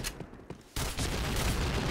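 Rapid gunfire in the video game Point Blank, quiet at first, then a sudden loud, dense burst of shots that keeps rattling without pause to the end.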